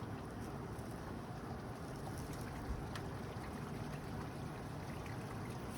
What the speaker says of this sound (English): So now it's got the jet squirting on the inside of the tank.